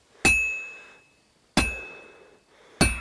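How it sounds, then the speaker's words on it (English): A blacksmith hammers metal at a forge in Kingdom Come: Deliverance II. Three sharp, bell-like strikes land about a second and a quarter apart, each ringing out and fading before the next, with no talk. "I have to hammer it more evenly."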